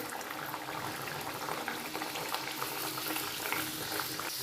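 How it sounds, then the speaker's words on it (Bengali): Paneer kachori deep-frying in hot oil, a steady dense bubbling sizzle that holds evenly throughout with no voices. "বাকিগুলো ভেজে দেখাচ্ছি দেখুন আরও একটা আমি দিয়ে দিচ্ছি"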